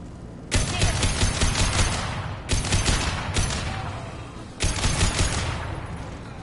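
Mass Effect 2 combat in plague-stricken streets where Blue Suns mercenaries shoot at anything, with loud volleys of rapid gunfire in three or four dense bursts, each fading before the next begins.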